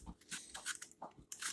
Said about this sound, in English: If you hear something crunching in the background, that's my German Shepherd Bella.